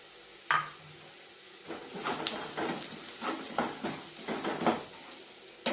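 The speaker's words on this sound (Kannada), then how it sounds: "ಕೈ ಆಡಿಸ್ಕೊಂಡ್ಮೇಲೆ ನಾನು ಸ್ವಲ್ಪ ಫ್ರೈ ಮಾಡ್ಕೊರಿ" Sabudana upma with turmeric frying in a pan, a quiet sizzle broken by intermittent scraping and clinks of a spatula stirring against the pan, close up with no talking.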